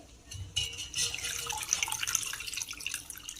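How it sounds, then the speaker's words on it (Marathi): Water trickles and drips as it drains from soaked rice, with light splashing and irregular patters, fairly close and moderately quiet. "आता आपण यातलं पाणी जे आहे ते आता काढून घेऊयात"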